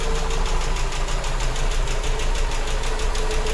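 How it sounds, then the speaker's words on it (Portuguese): A VW Gol CHT 1.6 gasoline engine idles close up with a loud, even, rhythmic chug and light mechanical knocking, holding steady throughout. "Olha a lenta como é que tá"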